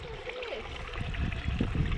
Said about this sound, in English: Nice little waterfalls.